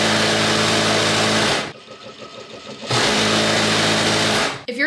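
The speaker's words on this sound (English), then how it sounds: "it actually has a motor under here so you can adjust the speed. It goes extremely fast." An industrial sewing machine with an adjustable-speed motor hums in a loud, fast, steady whine that cuts out briefly, spins back up to full speed, then stops abruptly.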